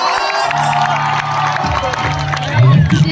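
A live audience at a Gujarati dayro folk-comedy show during a spring festival breaks into applause and cheering, loud crowd noise with clapping and some shouting, building toward the end over a steady musical drone.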